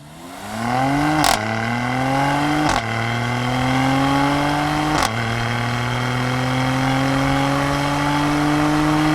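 A 2020 Mercedes-AMG GLC43 with a twin-turbo V6 and 4MATIC pulls hard from a standstill without launch control, its engine note climbing loud and steady through three quick upshifts, each marked by a brief dip before rising again.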